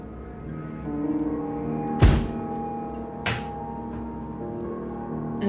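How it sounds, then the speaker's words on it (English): A door slamming shut indoors, a sharp heavy thud followed by a second lighter knock a moment later, standing out against a low steady background hum. "that door's just slammed."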